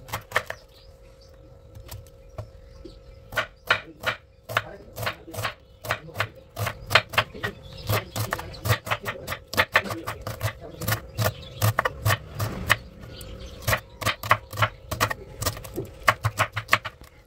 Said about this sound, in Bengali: এখন এই বাঁধাকপিটাকে আমি ঝিরিঝিরি করে কুচিয়ে নেব।